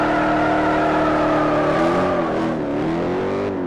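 Dodge W023 muscle car engine revving loudly, a steady rumble that climbs and then dips through several pitch shifts, close by and alone.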